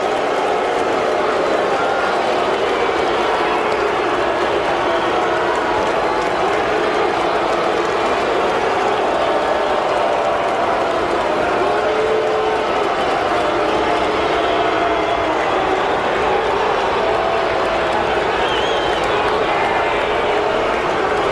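A Chicago baseball crowd reacts to Alex Rodriguez's at-bat with a sustained, loud roar of voices that stays steady throughout, with speech blended into the din.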